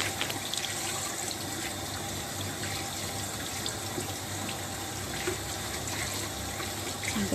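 Hands rinsed under running tap water at a sink during a face mask skincare routine, a steady close splashing stream with faint trickles and drips, continuous and without any talking.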